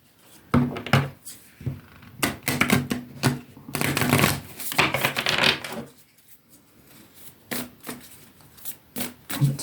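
A Moonology oracle deck is shuffled by hand, giving repeated crisp riffling and tapping bursts in irregular clusters, close and fairly quiet, with no talking.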